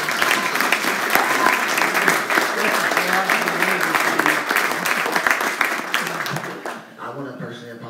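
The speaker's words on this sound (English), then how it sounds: "Can we clap it up for that?" Sustained audience applause at a talk on civil rights history, dense clapping filling the room at steady loudness before thinning out near the end.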